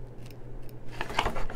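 Scissors trimming machine embroidery fabric, a few soft snips and a brighter crisp cut near the end, close and alone over faint room hum.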